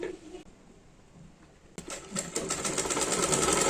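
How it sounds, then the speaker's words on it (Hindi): An electric sewing machine stitches a kurti seam, starting after a quiet pause with a sharp whir, then a fast steady run of needle clatter growing louder, close by. "इसको फोल्ड करेंगे एक बार, दोनों तरफ से इसमें सिलाई लगा लेते हैं"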